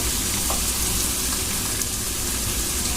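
Turmeric and cumin spice paste frying in a pan, a loud, dense, even sizzle that holds steady throughout with faint stirring underneath.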